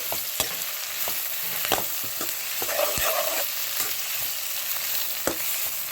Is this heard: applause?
no